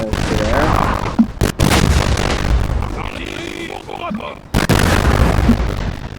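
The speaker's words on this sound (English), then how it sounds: "This artillery has a very fast reloading speed" Artillery in Napoleon: Total War fires heavy booming blasts, several loud cannon shots and bursts in a dense battle din, with a voice talking at times.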